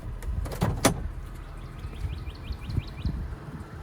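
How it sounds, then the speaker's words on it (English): Hood release on a 1989 Acura Legend coupe gives a quick pair of sharp latch clicks and a thunk near the start, followed by quiet outdoor ambience with faint bird chirps. "I'm gonna pop the hood."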